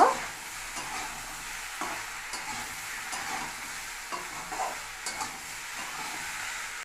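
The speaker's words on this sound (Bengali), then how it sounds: "এবার এর মধ্যে দিয়ে দেব ঝিঙে ঝিঙে দিয়ে ভালো করে কষা করব" Potatoes and ridge gourd stir-fried in oil in a pan, a steady close sizzle with repeated scraping stirs of a spatula, no talking.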